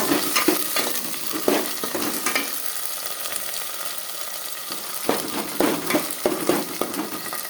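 Ground spices with turmeric and salt fry in oil for mutton kosha while being stirred, a loud close sizzle broken by bursts of spoon scraping and clatter against the pot.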